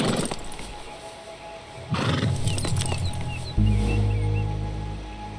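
Horses in the Red Dead Redemption 2 video game whinny with shrill, falling neighs, joined midway by a loud, deep rumbling roar, with no talk.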